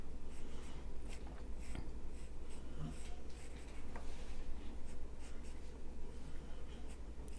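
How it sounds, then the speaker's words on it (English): A pen scratches across paper in steady strokes while drawing the veins of a cartoon leaf, a close, continuous scratchy texture of short repeated lines. "Draw in your little veins of your leaf"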